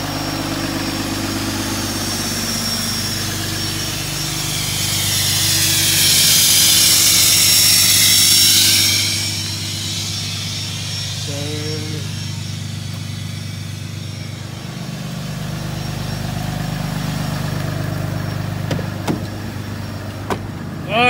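A service truck engine idles close by in a steady low rumble, swelling briefly louder as if revved or passing, then settling back to an even drone with a few faint clicks near the end.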